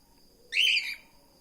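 A pet bird lets out a single bright chirp, a short whistled tweet rising clearly out of a quiet room, close and fairly loud.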